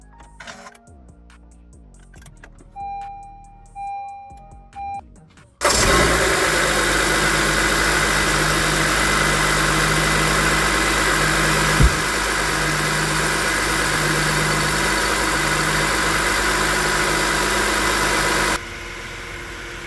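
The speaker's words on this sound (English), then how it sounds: "So let's start the car and see if it's repaired." A 2013-2017 Honda Accord is started after an engine belt tensioner replacement: a few faint clicks and shuffles, then the engine catches abruptly and settles into a loud, steady idle hum before it drops off near the end.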